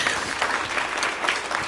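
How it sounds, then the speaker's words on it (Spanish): An audience claps loudly for a group of strong men on stage, a dense, steady burst of applause with no voices over it. "Démosles un fuerte aplauso a estos hombres fuertes"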